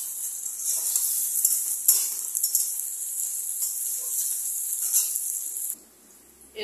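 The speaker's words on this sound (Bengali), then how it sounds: "আলুটাকে ভেজে নিচ্ছি প্রথমে ভালো করে।" Potatoes fry in hot oil with a steady, high hiss that stays fairly even before cutting off sharply near the end, close and without voices.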